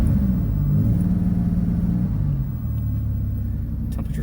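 A 3.8 liter LN3 V6 car engine idles with a steady low rumble, running continuously and close by, with no talking.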